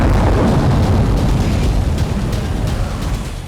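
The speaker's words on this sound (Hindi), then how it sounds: "एयरबेस पर रह रहकर धमाके भी हो रहे हैं" Continuous heavy rumbling roar with dense low booms from explosions at a burning Russian airbase, loud and steady throughout, like sustained explosions or a large fire burning nearby.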